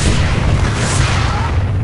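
Cannons fire during a base attack in a real-time strategy game, a dense run of overlapping booms and blasts that keeps up a rough, continuous rumble without pauses.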